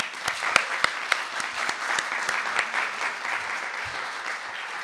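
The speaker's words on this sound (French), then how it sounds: "un tonnerre d'applaudissements pour Monsieur l'avocat" Applause from the audience at the grand final of a French pleading championship, a steady wash of clapping with sharp individual claps standing out throughout, moderately distant and without talk.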